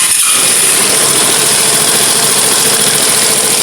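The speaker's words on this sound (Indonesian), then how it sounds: "Ini saya coba hidupkan, saya diamkan apakah RPM-nya itu turun" A Vespa matic scooter engine idles loudly up close with a steady, slightly rough buzzing drone and faint knocking vibration, holding an even pace throughout.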